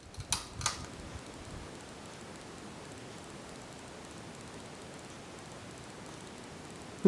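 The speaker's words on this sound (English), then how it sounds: "for the low speed, which I'll show with the fan and light on" A 52-inch SMC ceiling fan turning slowly on its low setting with the light on gives a steady, faint broadband whoosh and motor hum, with a couple of soft clicks near the start and nothing else over it.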